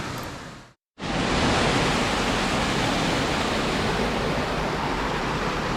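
Devil's Bathtub waterfall in Hocking Hills, Ohio, roars loud and steady as a dense, unbroken wash of falling water close by, after a brief dropout near the start.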